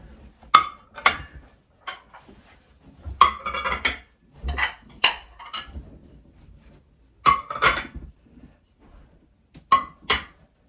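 Clear glass salad plates are set down one after another on a Christmas table, giving sharp clinks and clatters separated by quiet pauses, close and fairly loud.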